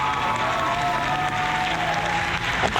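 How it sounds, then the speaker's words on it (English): Steady applause from a crowd, dense and continuous throughout, with faint tonal hum beneath and no clear voices. "if I gotta hear that applause again, I'm gonna lose it"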